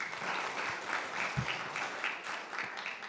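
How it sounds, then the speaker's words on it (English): An audience gives sustained applause, a dense, even wash of many hands clapping that stays steady at moderate volume throughout. "Can we give her a clap?"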